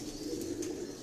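A female high flyer pigeon coos softly and briefly, faint against a quiet background with a low, rounded hum and no talking.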